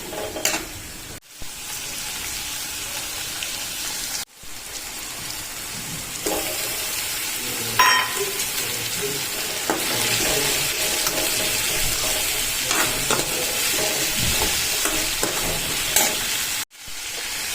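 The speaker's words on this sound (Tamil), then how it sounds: "வதக்கிட்டு தக்காளியை போட்டு நல்லா வதக்கணும்." Onion, garlic and tomato sauté in a pan, a continuous close sizzle with repeated stirring scrapes and clanks, broken by a few brief cuts to silence, with no talking.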